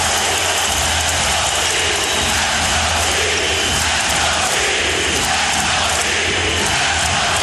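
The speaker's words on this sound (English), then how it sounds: "And this crowd on its feet." Crowd in a basketball arena during a 2006 NBA Eastern Conference Finals game between the Detroit Pistons and Miami Heat roars continuously on its feet, a loud, unbroken wall of cheering with no clear breaks.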